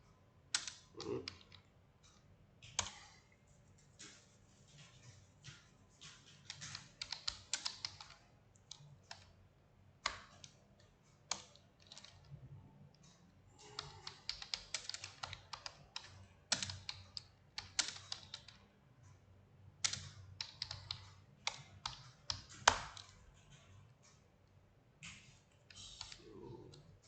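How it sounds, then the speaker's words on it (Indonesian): A MySQL command being typed on a computer keyboard: close, irregular bursts of clicking keystrokes with short pauses, lasting nearly half a minute, no speech. "kita ketik ini MySQL"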